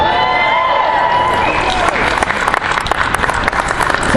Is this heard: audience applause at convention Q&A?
yes